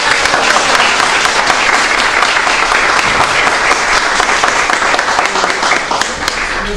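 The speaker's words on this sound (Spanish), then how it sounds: "yo les pido un aplauso" An audience at a Bible study lecture on Ezra bursts into loud, dense applause that holds steady nearly the full length before easing slightly at the end, with no speech over it.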